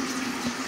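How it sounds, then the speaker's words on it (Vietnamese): Water runs steadily from a tap for rinsing the mouth during tooth brushing, a close, even gush with no voices over it. "Mở nước, rửa miệng nha."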